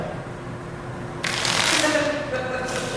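A deck of playing cards is shuffled by hand with a rapid riffling flutter that grows louder partway through, close by, with talk in the background.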